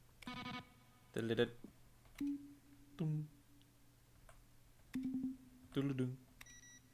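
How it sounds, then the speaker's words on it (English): Several short synthetic beeps and clicky tones in separate bursts, each a quick electronic blip with a tonal edge, spaced about a second apart: game button-press sounds from The Stanley Parable: Ultra Deluxe, each mixing a keyboard stroke with a synthesized tone. "A selection of the sounds used throughout the game when buttons are pressed."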